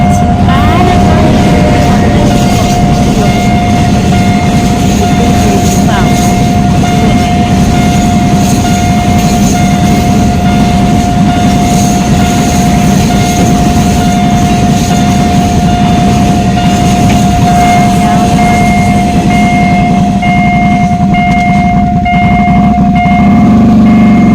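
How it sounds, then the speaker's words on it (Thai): A passenger train runs past on a rural track in Muak Lek, Saraburi, Thailand, a loud sustained rumble and rattle of wheels on rails with a steady tonal hum, lasting over twenty seconds before easing slightly at the end. "เห็นว่ารถไฟกำลังจะมานะคะ"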